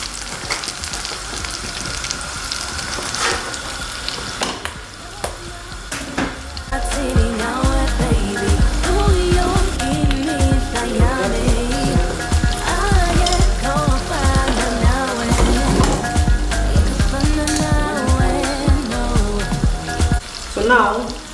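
Onion frying in hot oil for ayamase stew, a steady crackling sizzle running throughout, partly covered by louder melodic music from about a third of the way in.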